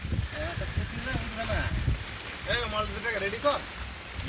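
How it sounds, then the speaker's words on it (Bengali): Heavy rain hisses steadily in the background while a person talks over it at close range. "বৃষ্টি হচ্ছে প্রচণ্ড জোরে বৃষ্টি হচ্ছে"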